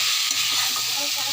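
Potatoes fried and stirred in a pan give a close, continuous hiss of sizzling oil with faint scraping underneath, steady and loud through the brief stretch, and no talking.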